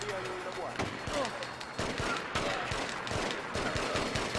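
AK rifle fire in the PS2 video game The Getaway, a rapid string of sharp, loud shots with a talking voice over the first part.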